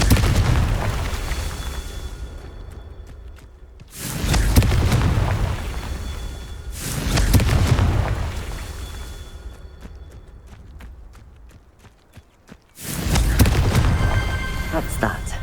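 Confringo explosive spell blasts in Hogwarts Legacy: three heavy booming bursts, each with a long rumbling decay, separated by quieter stretches of low background rumble.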